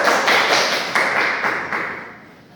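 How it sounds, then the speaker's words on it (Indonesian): A classroom group applauds briefly, a quick patter of hand claps that starts strong and fades out within a couple of seconds. "Beri tepuk tangan untuk Korea."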